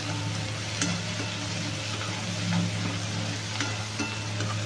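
Dried bombil fish masala with turmeric fries in a pan with a steady, soft sizzle and occasional faint stirring clicks, with no talking.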